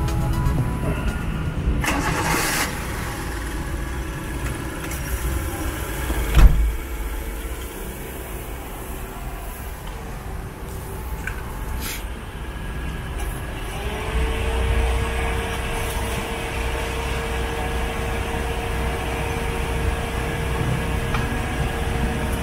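Thaco Towner truck engine running at a steady idle while its air conditioning is charged with refrigerant, a constant close drone broken by a single brief knock partway through.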